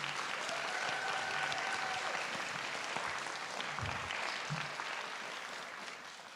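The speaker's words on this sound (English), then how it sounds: "Let's give these students another round of applause." Steady applause from a large audience at a school board meeting, dense and continuous clapping that holds for several seconds and slowly fades toward the end.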